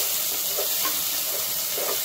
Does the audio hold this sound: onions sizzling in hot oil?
yes